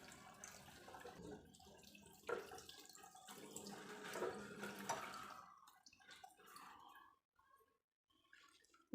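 Guava leaves being rinsed under running tap water, a steady splashing flow with drips that stops near the end, leaving brief quiet.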